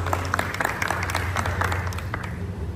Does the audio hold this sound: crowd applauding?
yes